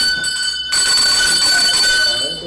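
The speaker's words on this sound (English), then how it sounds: "Ring the bell." A bell rings loudly and continuously, a bright sustained electric clang that cuts in abruptly after a short pause, close by, with voices in the background.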